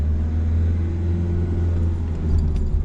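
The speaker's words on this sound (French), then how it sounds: "Allez, on accélère et on met la 2." A car on a driving lesson gives a steady, loud low engine rumble from inside the cabin as it accelerates and shifts into second gear, with a faint click or jingle near the end.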